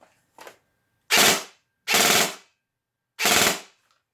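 A G&G CM16 Raider airsoft electric gun, fitted with an upgraded 25,000 motor, fires three close, loud full-auto bursts of about half a second each, separated by short silences. A faint short pop comes first.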